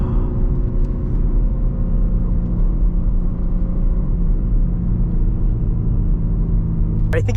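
Engine of a BMW M3 G80 sports car revving while driving, a loud, steady rumble and whir that stays constant throughout, with a brief sharp noise at the very end.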